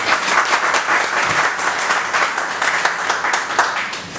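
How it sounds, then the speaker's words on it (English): Steady audience applause welcoming a presenter at a medical talk, dense clapping filling the room at a loud, even level throughout. "I request all of you to please welcome him with an applause."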